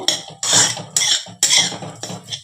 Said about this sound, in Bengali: এই যে এবার ভালো করে দেখো মিশিয়ে নেব